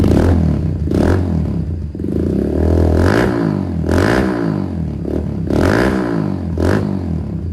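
A Kawasaki W175 motorcycle with a custom stainless cafe-style exhaust revs hard and close in a series of about six rising throttle blips over a rumbling idle, with no voices.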